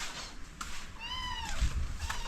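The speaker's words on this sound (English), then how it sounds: "the kittens are all begging for attention." Kittens on an off-grid homestead meowing for attention, a couple of thin high-pitched mews at close range over low background noise.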